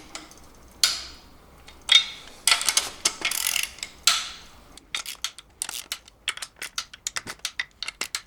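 A ratchet loosens the cylinder head screws on a BMW 850CSI engine, with sharp isolated clicks and short bursts at first, then a steady run of rapid, close ticking pulls.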